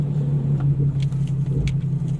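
A Nissan 370Z with freshly changed front brake pads and rotors rolls slowly in drive, a steady low idle hum with faint creaks and a soft thump near the end, no talking.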